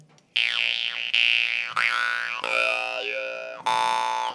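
A big Berezenko drymba jaw harp twangs in five sharp, snappy plucks, each ringing out with a bright, wavering buzz close up and alone.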